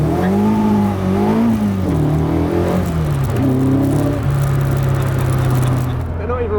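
A Caterham 420R sports car accelerates away once clear of traffic, its loud, close engine note climbing and shifting pitch in a continuous run of revving with no pauses.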